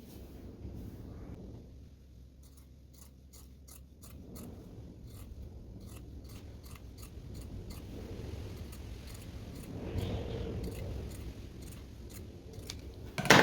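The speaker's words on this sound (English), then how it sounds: "We will cut this across here." Scissors snip across folded fabric to cut two waistbands for a beginner's A-line skirt, a run of short crisp cuts in steady rhythm, close and fairly quiet, with no talking.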